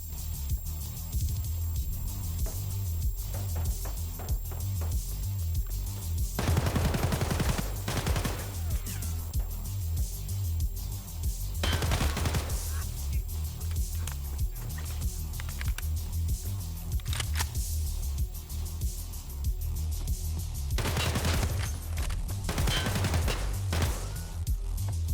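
Gunfire in the video game Escape from Tarkov, with several loud bursts of shots standing out over a steady backdrop of game ambience and movement noise.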